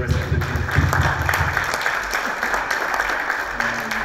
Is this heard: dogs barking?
no